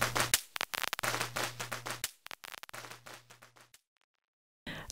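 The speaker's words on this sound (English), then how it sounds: "Chinese firecrackers expel evil spirits and the red batters bring luck." Chinese firecrackers exploding in rapid irregular bangs and crackles, loud and sharp, stopping briefly before a final burst.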